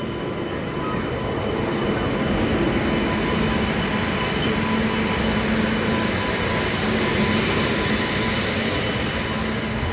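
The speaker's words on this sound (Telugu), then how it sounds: "మన ట్రైన్ అయితే వచ్చేసింది. వ్యాప్ 7 లోకోమోటివ్ అయితే ఈరోజు పుల్ చేస్తుంది దీన్ని." The Godavari Express, hauled by a WAP-7 electric locomotive, pulls into a station with a constant heavy rolling roar and a faint hum over the full stretch, and no voices.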